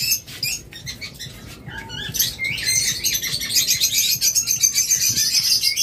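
Cockatiels and conures in a bird shop, a flurry of sharp repeated chirps and chatter rising to a dense, continuous twittering, fairly close, with light scratching and fluttering underneath and no talking.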